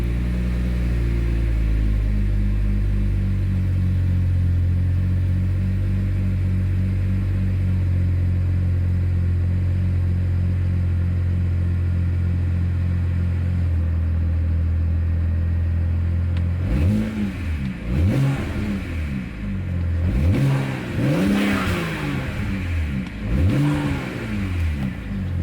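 A tuned BMW 335i running E85 fuel idles roughly after a cold start, its steady close engine drone later breaking into uneven surges and stumbles from misfires.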